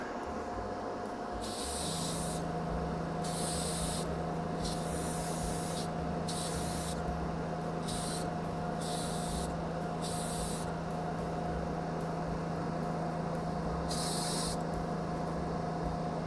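Aerosol spray paint applied in silver to a model train part at a workbench: close, repeated hissing bursts of varying length, heard over a constant background hum and tone.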